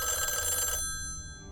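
A telephone bell rings in a scene from the Loki TV series, a loud continuous trill that cuts off abruptly partway through and leaves a low room hum.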